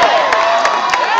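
Large outdoor crowd at a charter school funding rally cheering and applauding loudly, a dense continuous wash of claps and whoops close by.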